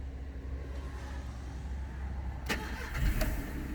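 A Volkswagen Golf 4 engine cranks and catches about two-thirds of the way in, following a steady low background hum, then settles into an even, stable idle close by.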